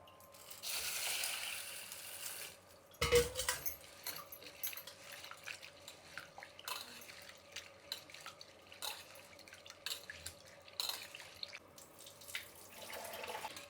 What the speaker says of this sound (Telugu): ఇప్పుడు దీన్ని బాగా కడుక్కునేద్దాం